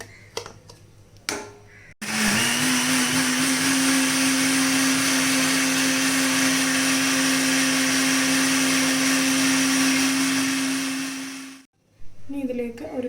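An electric mixer beats chocolate cake batter with sunflower oil for a steady ten seconds, a loud, even whirring drone that starts abruptly and cuts off, with brief quiet kitchen sounds before and after.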